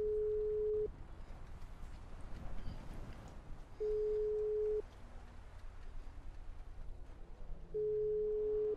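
Outgoing call ringback in a GTA roleplay game: a steady electronic tone repeats in long bursts about every three seconds, with quiet background noise and faint sounds between the rings, and nobody picks up.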